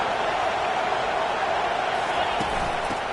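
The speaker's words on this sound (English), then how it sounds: "It is getting loud as this crowd tries to help its defense." A stadium crowd at a Clemson vs Notre Dame college football game roars loudly and steadily, a dense, unbroken wall of cheering with no lulls.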